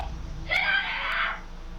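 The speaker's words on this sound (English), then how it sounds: "the obvious screams from the girl inside as she notices the men at the door" A girl screams from inside a house as men stand at the door, one sharp, loud cry lasting under a second and then stopping, with muffled room noise before and after.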